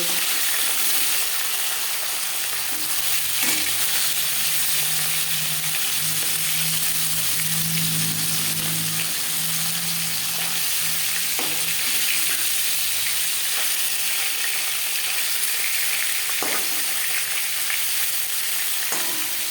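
Pieces of shol (snakehead) fish lightly frying in oil in a pan give a steady, even sizzle and hiss that runs throughout, close and unbroken, with no talking over it.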